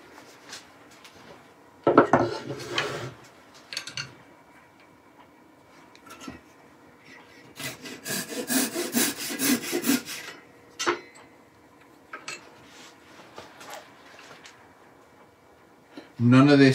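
A wooden dowel is sawn into two equal pieces in a woodturning workshop, with bursts of rasping back-and-forth strokes, a long steady stretch in the middle, and scattered clicks and knocks between the cuts.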